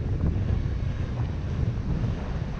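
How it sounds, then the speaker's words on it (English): Strong gusting wind buffets an outdoor microphone in a continuous low roar, loud and unbroken, with no voices over it. "See, the gust is blowing."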